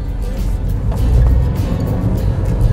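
A manual gasoline Chevrolet The New Spark pulls away from a start, heard from inside as a close, steady low engine drone that swells slightly as it accelerates.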